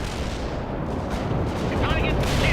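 Heavy artillery strike in the World in Conflict video game: a dense, continuous roar of blasts and rumbling impacts, loud and close, filling the whole stretch without pause.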